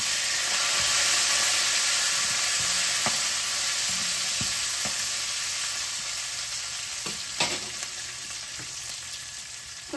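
Curry leaves and two dried red chillies crackle in hot oil for a shrimp and drumstick curry, a steady close broadband sizzle with occasional sharp pops and stirring scrapes throughout.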